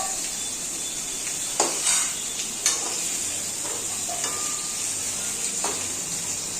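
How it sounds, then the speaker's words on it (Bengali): Eggplant fries in a pan for bhorta with a steady close sizzle and hiss, broken by several brief clinks and scrapes of stirring against the pan. "এই দেখো ভেজে ভেজে দেখো কত নরম হয়ে গেছে"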